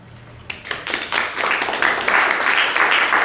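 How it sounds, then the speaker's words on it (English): Audience applause welcoming a speaker to the stage, starting with a few scattered claps and swelling into steady, dense clapping from a sizable crowd in an indoor event space. "I clap for you."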